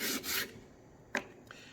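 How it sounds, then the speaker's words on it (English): Sandpaper lightly rubs the corners of a wooden birdhouse in two short, soft scraping strokes, followed by a couple of faint, brief scuffs in quiet surroundings. "just a light sanding on the corners to knock those splinters down"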